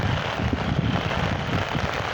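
Heavy rain pouring steadily during a storm over a farm school garden in the rainy season, a dense, continuous wash of close, loud rainfall with no voices.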